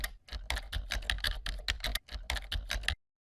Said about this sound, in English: keep typing, and Word moves you to the next line automatically